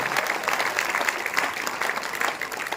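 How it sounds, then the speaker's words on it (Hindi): A crowd at a Hindu poetry gathering claps loudly and steadily in dense, continuous applause throughout, with no talk rising above it. "इसलिए एक बार जरा जोरदार तालियां बजाओ"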